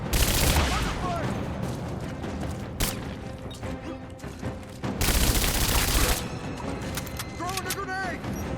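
Gunfire and explosive bursts in the action game Rise of the Tomb Raider, with loud broadband blasts and crashes amid constant combat noise while character voices shout over it.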